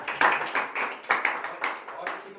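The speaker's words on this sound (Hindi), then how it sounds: "एक बार भाई के लिए ताली हो जाए" An audience at a Vestige business training seminar claps in steady rhythmic bursts to cheer a participant, the claps close and moderately loud with a hint of voices underneath.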